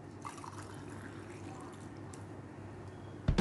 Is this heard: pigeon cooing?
no